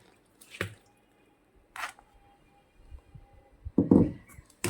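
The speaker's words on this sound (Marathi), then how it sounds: "अगदी थोडं थोडं करून मी पाणी घालत आहे" Water is added a little at a time to chakli dough mixture in a pot, giving three short, close splashy pours separated by quiet pauses.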